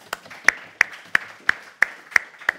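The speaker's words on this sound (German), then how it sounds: "Einen Applaus für Barbara Hackenschmidt." Sparse, evenly spaced claps at a political event in Elbe-Elster, roughly eight sharp hand claps in a steady rhythm, close and fairly loud, too thin to be a full crowd.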